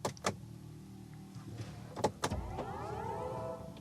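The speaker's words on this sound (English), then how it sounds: "Here you have your climate. Let's turn it on so you can hear the sound." A BMW iX3's climate fan whirs on, rising into a steady airy hum after a few sharp clicks and thumps from the controls.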